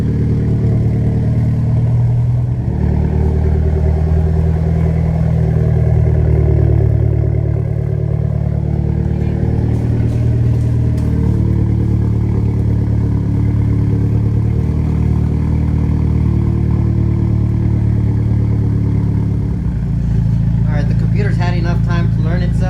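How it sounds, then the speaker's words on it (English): A Mitsubishi Lancer Evolution X engine idles with a steady, low rumble, then near the end is blipped into a couple of quick revs. "I'm gonna give it a couple of revs."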